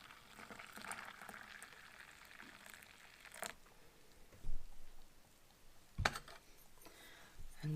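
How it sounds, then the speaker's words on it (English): Hot water pours into an MRE pouch, a hissing, bubbling liquid rush with a few crinkly plastic rustles and soft thumps, close and with no talk. "Okay, so we're going to add some hot water."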